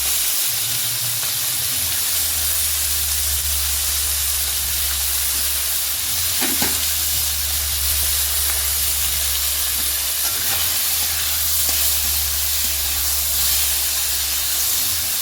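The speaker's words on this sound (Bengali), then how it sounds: "মাছগুলো যখন ভাজা হয়ে যাবে তখন আমি নামিয়ে নেব" Fish fries in a hot pan with a steady, even sizzle and hiss. A low background hum runs underneath, and a few brief clatters break in partway through.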